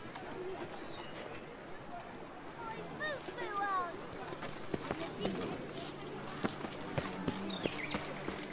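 Roach the horse gallops through The Witcher 3: Blood and Wine, with hooves clip-clopping in a quick, even rhythm that grows more distinct toward the end, alongside ambient game sounds and brief bird-like chirps.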